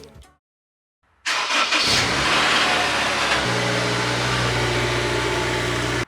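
A car engine cranks and catches after a brief silence, then settles into a loud, close idle with a slight rev as the car is readied to be driven out.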